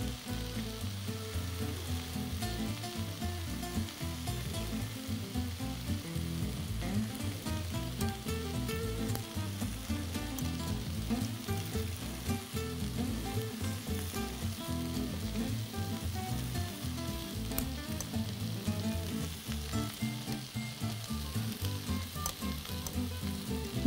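Steady, dense sizzle and crackle of chicken popcorn pieces frying in hot oil, continuous and even throughout at a moderate level with no voices.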